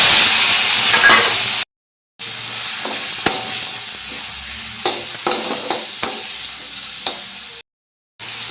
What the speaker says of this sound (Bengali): এবার এগুলো ভেজে নেবো।